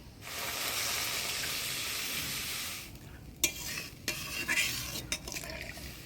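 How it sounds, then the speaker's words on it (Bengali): Spice masala with sugar and yogurt frying in a pan, a steady soft sizzle at first, then scraping stirs and clinks of a spoon against the pan, close and fairly quiet, with no talking. "মশলাটা ভালোভাবে কষে নিলাম"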